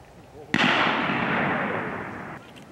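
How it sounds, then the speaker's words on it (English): A single loud shotgun blast while pheasant hunting in Ontario, a sharp crack followed by a long rumbling echo that slowly fades, heard close and alone. "You hear the third shot, the bird's already falling"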